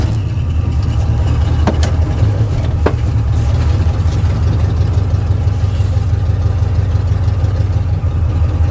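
An old vehicle's engine holds a steady, elevated idle, close and continuous, with a couple of brief sharp clicks early on and no talking.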